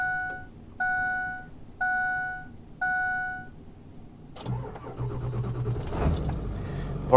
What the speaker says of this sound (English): that was a true cold start